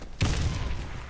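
A grenade explodes in the shooter Warface, one sudden loud blast after a short quiet moment, followed by a rumbling decay.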